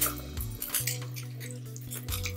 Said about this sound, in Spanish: escurrimos la pasta, no del todo